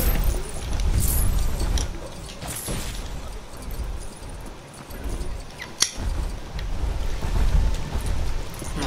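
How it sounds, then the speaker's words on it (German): Steady rain falls in the LEGO Jurassic World video game, a dense, even hiss of water with a few brief splashy bursts, continuous and fairly loud throughout, with no voices over it. "es regnet so noch"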